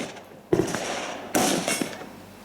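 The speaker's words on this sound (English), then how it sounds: "shoot the left and right plates" Two sharp gunshots ring out at left and right steel plates in a rough outdoor practical shooting match, each report loud and close with a short ringing tail, spaced about a second apart.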